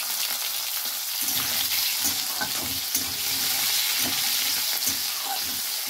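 Boiled, cut potatoes frying in hot oil with bay leaf give a steady close sizzle, with repeated soft scraping stirs of a spatula through the pan and no talk.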